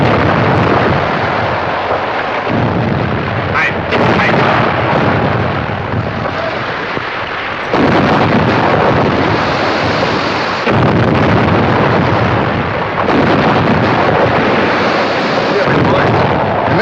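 Artillery fire in a 1937 wartime film, heavy booming blasts rolling over a loud, dense battle din that runs unbroken, with shouted commands mixed in.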